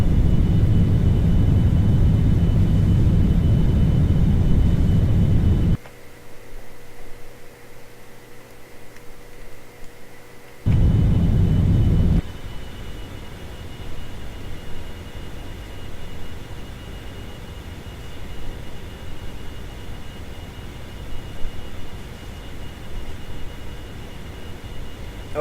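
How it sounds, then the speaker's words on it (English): Retro thrusters fire for a retrograde burn in the Orbiter space simulator, a loud steady roaring rumble that stops abruptly, briefly resumes, then gives way to a quieter broadband hiss. "we're ready to perform our final retrograde burn. And we'll use the retro thrusters for this. So we can just burn now."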